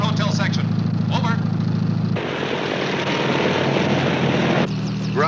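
A helicopter drones steadily throughout a scene from a 1957 film, loud and continuous, its engine and rotor rumble changing tone partway through, with voices speaking over it.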